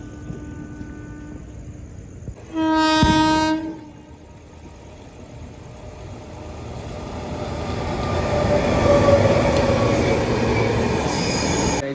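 A loud train horn blasts once, then a train rumbles past with squealing wheels growing louder, and a second horn sounds at the end.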